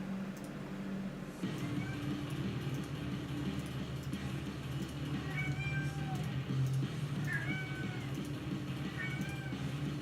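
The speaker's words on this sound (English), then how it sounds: "That's my cat Coco, letting everyone know she's awake." Coco, a pet cat, meows several times in short rising calls over a steady low background hum, moderately close but not loud.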